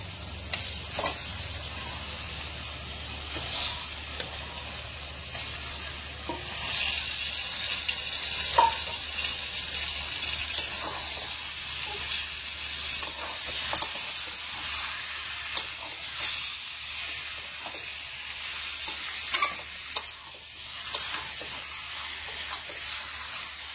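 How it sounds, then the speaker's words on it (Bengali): Mutton frying in a pan of cooked spices sizzles quietly and steadily, with scattered clicks and scrapes from stirring, and no talking. "এবার মাংস দিয়ে দেবো, মশলা ভাজা হয়ে গেছে আমার।"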